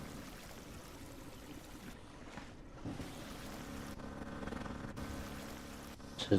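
Struggling water pump in the Drain Simulator game, a steady low churning drone with watery hiss, continuous and moderately loud with a few brief bumps near the end, no talking.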